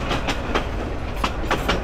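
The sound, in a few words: train moving very slowly on rails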